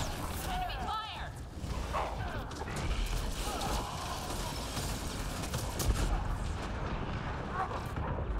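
Enemy gunfire in Mass Effect Andromeda, sharp cracking shots and booms scattered through dense battle noise, moderately close, with voices talking over it.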